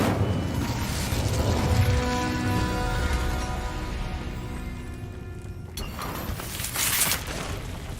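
Incendio fire spell blazing in Hogwarts Legacy, a sustained roaring, crackling burst with ringing tonal layers that cuts off sharply partway, followed by a couple of softer whooshing flare-ups.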